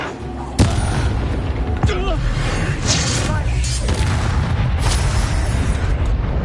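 The Incendio fire spell in Hogwarts Legacy is cast in the video game, with a series of sharp bursts and booming blasts over continuous game noise.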